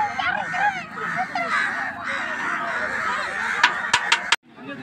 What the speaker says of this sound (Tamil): மேல காக்கா கேக்குதுடா நேரா